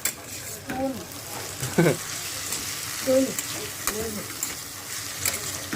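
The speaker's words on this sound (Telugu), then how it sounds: "ఈ విధంగా బాగా ఫ్రై చేసుకోవాలి" Chilli powder masala fries and sizzles steadily in a pan, with a spoon scraping and stirring at intervals, while someone talks over it.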